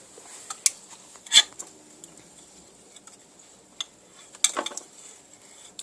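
A metal spoon scrapes and clinks inside a container of goop, giving a few sharp taps and scrapes spaced apart over near silence.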